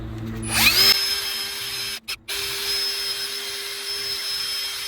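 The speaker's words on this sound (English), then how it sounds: "I'm gonna use a wire brush attachment in a drill" A power drill whirs steadily with a gritty scraping of a wire brush on metal, briefly stopping and restarting.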